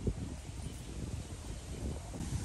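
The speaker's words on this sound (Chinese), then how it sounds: "现在呢开始起风了，起风了" Wind rising on a city street at night near a small night market, a steady broadband rush and low buffeting against the microphone that swells slightly toward the end, with no voices.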